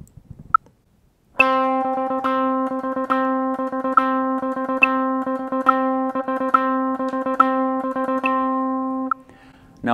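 A funky six-note sextuplet phrase with accents on the first and last three notes, played as a steady run of rapid, evenly pulsed repeated notes for about eight seconds. The tone is bright and sustained, and there is no talk.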